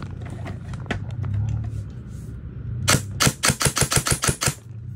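A CYMA AK74 Platinum airsoft rifle fires a short test burst of about eight rapid, sharp cracks near the microphone, following some softer handling clicks and quiet background talk.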